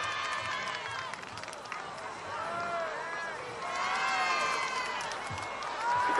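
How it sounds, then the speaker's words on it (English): A large outdoor crowd at Jeux Sans Frontieres 1977 in Ludwigsburg, Germany, shouts and cheers continuously from a distance, with whistles and rhythmic chanting, while a commentator talks over it. "You can hear the crowd shouting."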